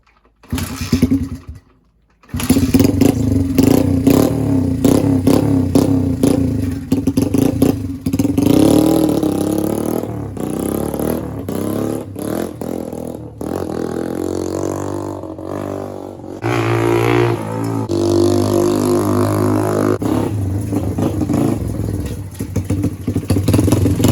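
A 1979 Honda XR80 motorcycle engine that sat for a year starts after a brief silence, then idles and revs unevenly up close with sputtering, rattly, fluctuating bursts throughout.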